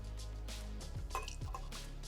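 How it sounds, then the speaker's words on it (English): Two ounces of WhistlePig rye whiskey are poured at a home bar, producing close, soft gurgling glugs and liquid drips over about two seconds. "But our WhistlePig, and we're gonna go ahead and pour 2 ounces."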